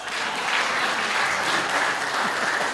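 Steady applause from an audience at a kavi sammelan, a Hindi comic poetry recital, with dense clapping that holds at an even level throughout.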